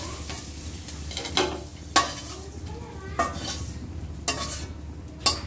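Sliced pointed gourd (potol) frying in oil in a pan, a steady low sizzle broken by several scraping stirs of a spatula against the metal at irregular intervals.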